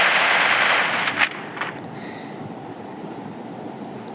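Rapid automatic gunfire from the Free Fire mobile video game, a loud dense burst in the first second followed by a few scattered sharp shots over a wind-like hiss.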